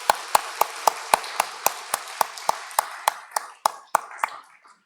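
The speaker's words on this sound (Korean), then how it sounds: "우리 두 가정을 위해서 우리 다시 한번 축복의 박수 한번 하십시다." Church congregation giving a round of blessing applause during a Sunday worship service. The claps start strong and in rhythm, about a dozen evenly spaced, then grow looser and fade out toward the end.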